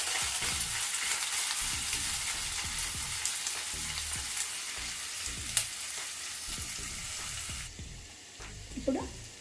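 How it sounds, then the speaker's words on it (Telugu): Ginger garlic paste sizzles and fries in a pan, a steady close crackle broken by scraping stir strokes, with a faint clank near the end. "అల్లం వెల్లుల్లి పేస్ట్ వేసి వేయించుకున్నాం కదా, ఇది కొంచెం పచ్చి వాసన పోయే వరకు వేయించుకోవాలి."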